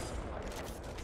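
Dense, loud gunfire from the shooter game Apex Legends fills the whole moment as a continuous, crackling wash, with no single shot standing clear of the rest.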